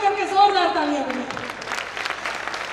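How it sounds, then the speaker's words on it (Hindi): A hall audience at a Bharatiya Jain Milan annual convention applauds. A voice trails off as steady, dense clapping fills the room. "अब एक बार सारा सदन मिलकर के जोरदार तालियां बजाएं"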